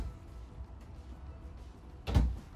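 A cabinet door or drawer in a large travel trailer with three slide-outs bangs shut once, a single close thud near the end after quiet room tone.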